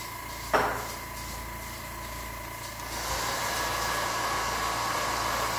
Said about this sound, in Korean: 드라이기 있으니까.